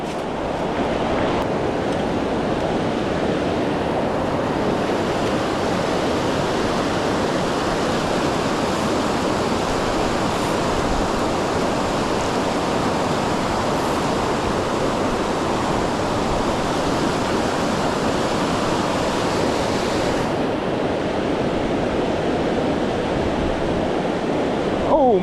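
River rapids rushing in a loud, continuous broadband roar of churning water, steady and close throughout with no pauses.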